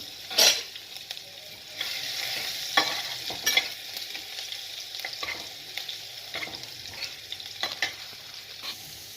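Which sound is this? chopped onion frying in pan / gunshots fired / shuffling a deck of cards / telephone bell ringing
chopped onion frying in pan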